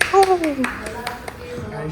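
Hands clap about six times in a steady, quick rhythm, each clap sharp and close, while a voice talks over the first few beats.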